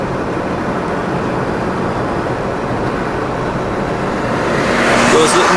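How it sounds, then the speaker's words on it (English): Road traffic on a windy alpine road in the Bovec district near Kobarid, heard as a steady broadband rumble of passing vehicles that swells louder toward the end. "There's a little more traffic now than there was earlier."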